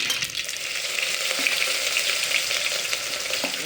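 Onion, chili and ginger sizzle and crackle steadily in hot oil, a close, continuous frying hiss without speech.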